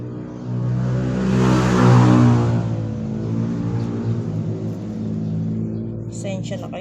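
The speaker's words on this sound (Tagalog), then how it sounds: "Pasensya na kayo sa mga ingay ng sasakyan" Traffic passes along a roadside street: a vehicle approaches with a swelling rumble that peaks near the start, then a steady engine drone lingers beneath the scene.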